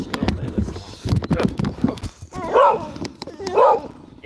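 Several sharp dog barks and yips ring out close by amid busy talk and street noise, two louder yelps standing out near the end.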